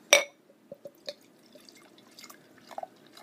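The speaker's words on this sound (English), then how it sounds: "Let's get it poured." Bear Republic Racer 5 IPA is poured into a glass, starting with a sharp clink and followed by soft, scattered drips and light liquid splashes, close and quiet, with no talk.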